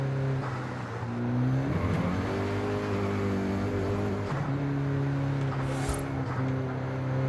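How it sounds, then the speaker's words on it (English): A Volkswagen Golf GTI driven in Forza Horizon 5, its engine humming steadily with pitch dropping and rising through gear changes, loud and continuous with no talk. "including the Golf GTI you're driving right now"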